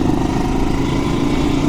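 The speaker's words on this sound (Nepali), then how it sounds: "इन्जिन साउन्ड लास्टै लाउड छ कि यो बाइकको" A Chinese vintage-style motorcycle rated around 14 to 15 bhp runs loudly and steadily up close, its engine note a thick, continuous drone with no voices over it.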